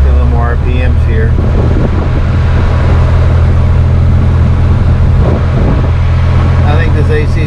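A Mercedes-Benz, one of a 1963 220SE, 1971 280SE or 1972 280SE 4.5, has its engine held at raised RPM during an air-conditioning check, a steady low drone with fan hiss throughout, with someone talking over it at the start and end.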